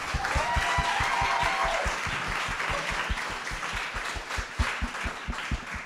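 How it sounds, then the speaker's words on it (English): An audience applauds competing chefs at a charity chef showdown event, a steady crowd clapping with a prominent rhythmic run of close, sharp claps, a voice briefly heard at the start. "So again, a round of applause for these folks,"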